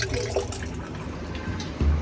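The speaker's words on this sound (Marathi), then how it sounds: "इथून पाणी येत आहे म्हणजे पाणी भरत आहे" Water runs into a toilet cistern with a ball float, a steady close rushing fill that swells briefly near the end.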